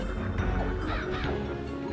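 Ravens cawing in the game MediEvil, a few harsh calls over a steady backdrop of game music and ambience.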